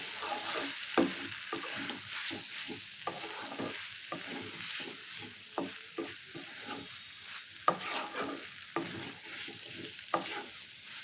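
Pasta stirred with Maggi masala in a pan over a low gas flame, giving a steady scraping, clattering stir over a soft continuous sizzle with irregular spoon knocks throughout.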